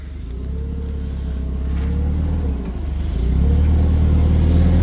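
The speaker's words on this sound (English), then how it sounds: "Brock's getting to drive the new forklift" A new forklift being driven: a steady engine rumble that swells as it pulls away, dips briefly, then rises to a louder, sustained drone close by, with no talking.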